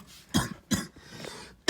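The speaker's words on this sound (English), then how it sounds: "Sorry, I'm gonna be coughing a little bit." A person coughs in three separate bursts over under two seconds, close and fairly loud, the last one cut off, with no talk in between.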